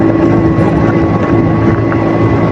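Honda CD 70 motorcycle cruising at 60-70 km/h on a rough road, a steady loud engine drone with constant low hum and wind rush throughout, no talking.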